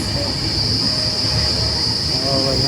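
A crowded general-class coach on the Nagpur to Ujjain train rattles and rumbles loudly and continuously on the tracks, with a sustained high metallic whine over the clatter.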